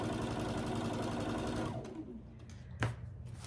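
A sewing machine runs steadily while stitching a row of a signature quilt, then winds down and stops, followed by a brief sharp clunk and quiet handling noise.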